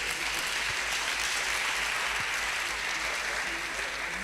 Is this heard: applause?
yes